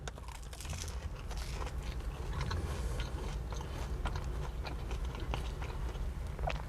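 Fast food french fries are bitten and chewed close up, a steady run of crisp crunching and mouth sounds with no talking.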